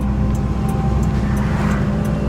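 A big truck rolls along as part of a road convoy, its low engine drone and road rumble steady and continuous from inside the cab, with faint rhythmic ticks over the top.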